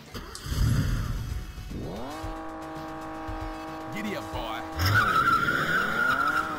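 Cars skid in the Chase HQ arcade game, with long whining tire squeals that sweep up and down over an engine drone, close and loud, and a brief burst of noise before the squeals begin.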